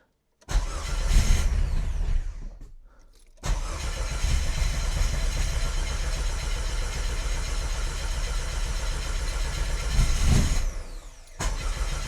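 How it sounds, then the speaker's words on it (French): A Citroën Xsara with a swapped engine starts for the first time: it cranks and catches loudly, cuts out briefly, then fires again and settles into a steady, rough idle close by. "je vais être prêt pour le premier démarrage officiel de cette voiture"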